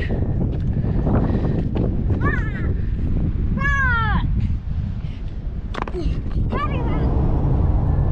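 Wind buffets a microphone in a steady low rumble while a person talks over it, during an off-road drive in Western Australia's Mid West.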